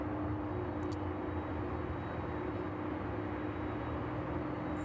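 A Boeing 737 arriving at East Midlands Airport on a chilly evening after a flight from Lanzarote, heard as a steady, broad jet roar with a low rumble that holds constant throughout, with no voices.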